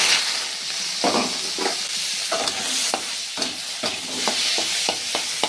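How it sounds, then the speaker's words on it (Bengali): Fish and prawns fry in hot oil in a wok, giving a loud, steady sizzle close up, broken by repeated bursts of spattering as pieces are turned. "এই যে মাছগুলো ভেজে নেব।"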